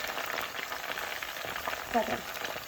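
Chickpeas with ginger-garlic paste frying in oil in a pan over a high flame, a soft continuous sizzle and crackle with faint stirring clicks, fairly quiet throughout.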